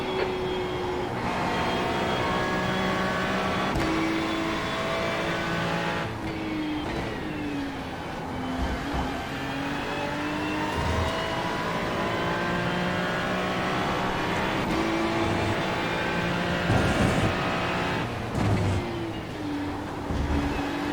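Race car engine in the iRacing sim game, a loud sustained engine note rising and falling through gear changes as the car accelerates out of corners, with no voices.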